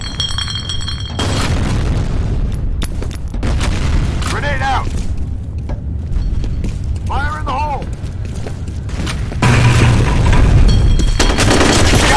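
Grenade blasts in the multiplayer shooter F.E.A.R. Combat, several heavy booms spaced across the clip with a loud burst near the end, amid continuous game noise and voices talking over the action.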